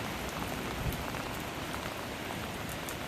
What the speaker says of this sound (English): I'm happy standing out in the rain, but I don't want stuff to get damaged in the rain